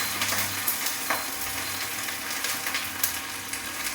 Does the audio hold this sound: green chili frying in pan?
yes